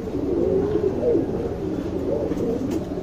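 A young tournament pigeon cooing up close, a continuous warbling low coo repeated in soft rolling phrases, loud and alone.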